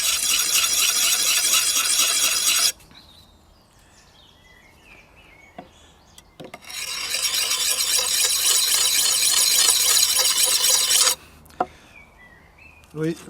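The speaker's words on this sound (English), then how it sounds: "Sharpen away from yourself, away from the edge." A blade is sharpened with repeated strokes across its bevel to raise a burr, making two long stretches of steady, close, gritty rasping separated by a quiet pause with a few faint clicks.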